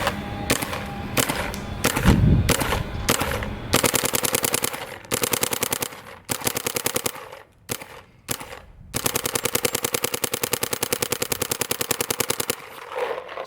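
Rapid bursts of paintball gun fire through an HK Army FL barrel with a Silencio tip, a fast string of sharp pops repeated in several long volleys with short pauses, loud and close.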